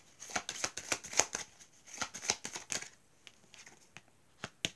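Cards for a reading being shuffled and drawn, a quick series of soft, crisp slaps and flicks close to the listener, growing sparser and quieter toward the end.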